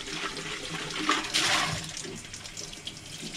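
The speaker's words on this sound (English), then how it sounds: "I'm going to rinse it out" Water runs into a mostly empty paint bucket in a paint shop as it is rinsed out. A continuous splashing gush swells in the middle, then eases to a steadier trickle.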